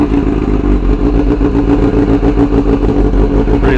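A 2006 Kawasaki ZX6R (ZX636) sport bike idles with an open exhaust, a loud, close, steady burbling rumble with a rapid even pulse throughout and no talking.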